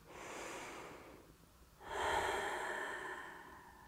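Slow breathing during a prenatal yoga session: one audible breath fades out, then after a short pause a second, louder and longer breath follows, close to the microphone with no talking.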